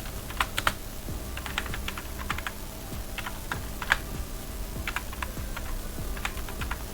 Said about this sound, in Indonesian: kita simpan dulu ya pengguna dan database-nya. Oke, kita ketik dulu di Notepad.